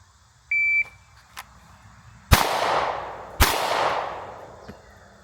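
A shot timer emits a short electronic beep, then two sharp pistol shots ring out about a second apart from an S&W M&P Shield Plus, each loud crack trailing off in a long echo.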